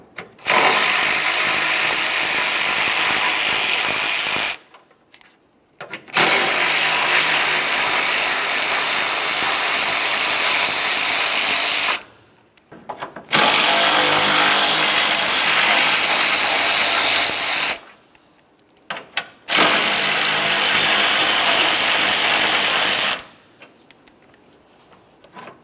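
A ratchet with a 10mm socket backs out the support bracket bolts during a radiator cooling fan replacement on a 2004-2006 Scion xB, sounding in four long, loud, close bursts separated by short silences.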